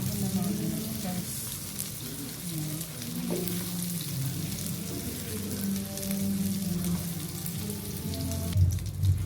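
Hotdogs frying in a pan, a steady close sizzle and crackle with faint stirring and scraping throughout, loudest near the end.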